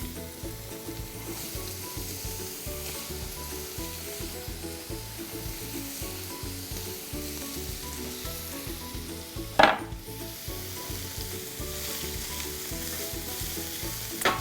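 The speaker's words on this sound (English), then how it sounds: "Okay, so we're gonna just stir these around and cook them for about 1 to 2 minutes until they're kind of looking translucent through the onion." Onion and garlic sauté in olive oil, a steady soft sizzle with a utensil stirring and scraping the pan in regular strokes, plus one sharp clack near the middle; no voices.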